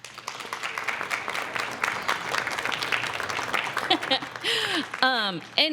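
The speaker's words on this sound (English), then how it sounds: "I just ask if we could give Jim another round of applause" Audience applause for Jim LaBelle, first vice president of NABS, at a truth and healing gathering: steady dense clapping from a crowd, fading toward the end as a voice begins speaking over it.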